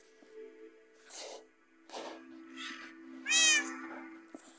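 Cats in the video game Minecraft meowing, several separate short mews spaced about a second apart, the last one louder and more tonal, over a faint steady hum.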